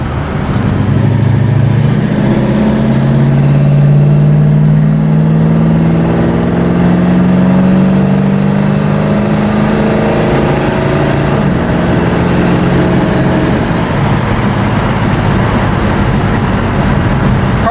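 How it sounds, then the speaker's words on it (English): A 1965 Ford Mustang engine pulls hard through the gears, loud and close, with rising revs that drop at each upshift in a steady stepped pattern and no talking over it. "Try to run it through the gears up here a little bit and see how it shifts out."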